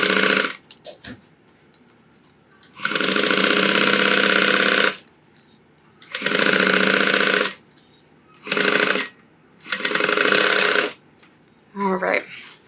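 A sewing machine back stitching a seam on a crossbody bag runs in loud, steady buzzing bursts of a few seconds each, separated by short pauses and brief mechanical clicks.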